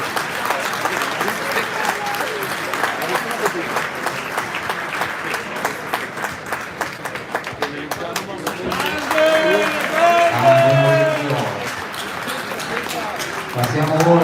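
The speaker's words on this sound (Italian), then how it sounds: "Un applauso anche a Maurizio." Applause from spectators at an amateur Olympic-style boxing event, a steady crowd clapping through the hall, later joined by a louder burst of voices and a ringing tone as an announcer talks over it.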